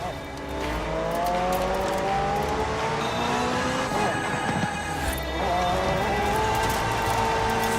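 A McLaren supercar with a twin-turbo V8 and electric motor assist in Forza Horizon 4 revs hard, its engine note rising and dropping through gear changes, with some tyre noise, loud and continuous.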